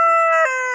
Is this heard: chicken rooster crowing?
yes